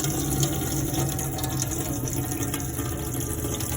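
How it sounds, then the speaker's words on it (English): A water pump running in a Swift 590PR caravan while water pours from the hot tap into the sink: a continuous, fairly loud gush of flowing water over a steady mechanical hum, with no voices. "turn it around to the left, so to the hot, and then just pour the water through until the pump kicks in"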